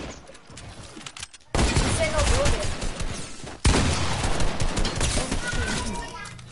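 Bursts of rapid gunfire in the video game Fortnite, dense and loud after a quieter opening, with a sharp shot near the middle and voices talking over the action.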